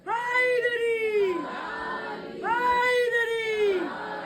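A crowd at a Muharram gathering chants the slogan Haidari in unison, two long, rising-and-falling chanted calls in a row, loud and reverberant with many voices together.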